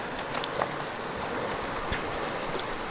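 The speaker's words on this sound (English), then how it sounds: "But I should probably put water in it first." A water bottle is filled in a cold stream outdoors, with a steady broad rush of flowing water and a few light splashes and gurgles, close and fairly loud, no talking.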